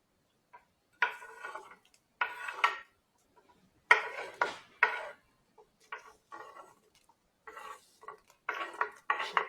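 Chopped vegetables and seasonings being tipped into a pot of pork for Jamaican brown stew, with several bursts of clattering and scraping against the pot spread across the stretch, fairly close with quiet gaps between.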